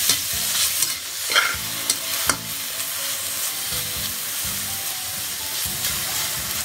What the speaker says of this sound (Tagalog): Nagigisa lang natin yung ating meat para less oil tayo.